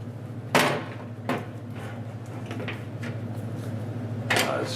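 An axe handle snaps into a SURE-GRIP tool mount with a few sharp, close clicks and knocks over a steady low hum, the loudest click near the start and another near the end.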